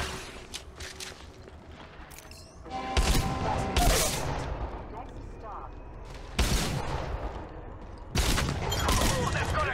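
Gunfire from Apex Legends Mobile, played in third person: short bursts and single loud shots that swell at intervals across the clip, with rattling bursts and impacts in between over a continuous battle background.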